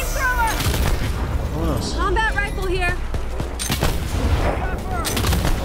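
Rapid gunfire in the co-op alien shooter Earthfall, repeated shots and blasts running continuously under loud excited Spanish-speaking players' shouting.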